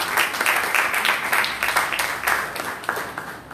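A church congregation at an Asamblea de Dios Sunday school service applauding, with dense, steady clapping and rhythmic swells throughout, close and loud with no talk.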